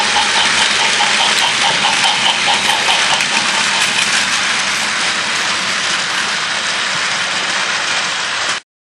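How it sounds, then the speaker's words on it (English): Thomas the Tank Engine hauls a long freight train over track with a broken section ahead, producing a loud, steady, continuous rumble and clatter for about nine seconds before it cuts off abruptly. "The long freight train clattering behind him."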